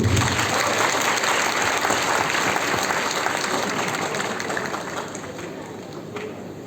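Audience applause greets a contestant from Niksar walking on at the Erbaa Altın Yaprak singing competition, a loud, dense wash of clapping that holds steady and then slowly thins toward the end.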